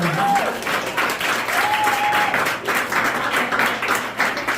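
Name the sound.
audience applause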